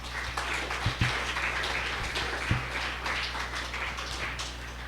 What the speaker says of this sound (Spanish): Dale otro aplauso al Señor, hermano.